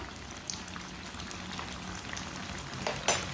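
Sandwich pakora fries in a pan of oil, a soft, steady bubbling sizzle with scattered light pops, quiet throughout, ending with a brief louder crackle near the close.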